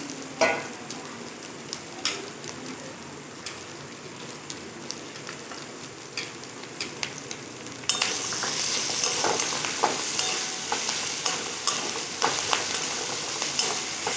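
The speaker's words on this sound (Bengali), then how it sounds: "আমি পেঁয়াজ আদা রসুন পুরো লাল লাল করে ভেজে নিয়েছি" Onion, ginger and garlic fry in a pan with a continuous close sizzle and crackle, punctuated by stirring clicks, growing louder and denser partway through.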